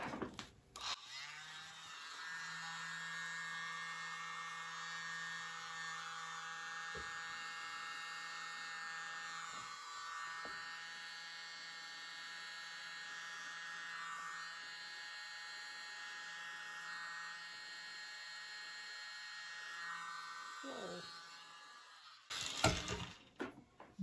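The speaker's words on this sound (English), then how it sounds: "My mini blower." A small handheld mini blower runs steadily over an acrylic paint pour with black cell activator, a continuous whirring motor hum lasting about twenty seconds before a short clatter near the end.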